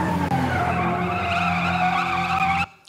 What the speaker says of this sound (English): someone had the bright idea of bringing the screeching car in a little bit earlier